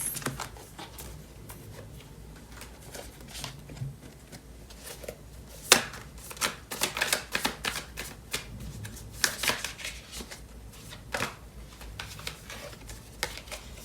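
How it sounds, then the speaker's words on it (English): Tarot cards are shuffled by hand at close range, with soft riffling and sharper slapping bursts that come in uneven flurries across the whole stretch. "So I'm gonna pull out the cards from the tarot for more messages."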